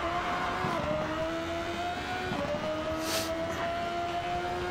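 Race car engine from the Hot Lap Racing video game on Switch, a steady high-pitched whine that holds and steps up in pitch, loud and continuous with no talking.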